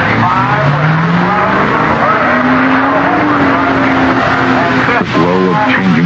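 A Triumph TR8 race car roars loudly through the Sebring endurance race, its engine note rising in long pitch sweeps with revving and gear changes, a brief dip and tire squeal near the end, continuous and close.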